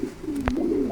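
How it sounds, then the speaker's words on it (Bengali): A single male pigeon gives a short, throaty coo, close by, over a soft steady background hum without speech. "দেখেন নরটা কেমন ডাকে,"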